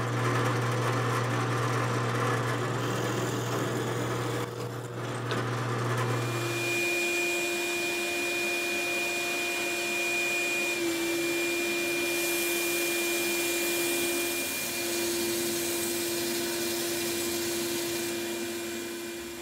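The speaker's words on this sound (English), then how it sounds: "I need to drill a hole in the end so that they'll pivot and also fasten to the hub." A power drill whines steadily as it bores a hole into the end of a wooden piece, its pitch shifting partway through, continuous and close with no voices.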